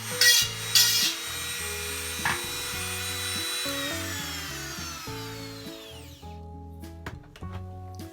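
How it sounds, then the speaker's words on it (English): A high-pitched Dremel rotary tool with a sanding wheel whines steadily, grinding the edge of a hole cut in a stainless steel pot, with shifting pitch and scraping contact, close up and continuous with no one speaking. "I used a Dremel with a sanding wheel on the end to clean up the hole"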